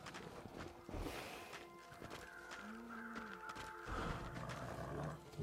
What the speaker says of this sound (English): I can hear footsteps and breathing and snarling